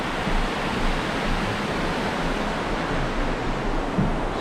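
A creek at Whistler rushes steadily with dense, even broadband water noise, close and continuous without pauses, and no voices over it.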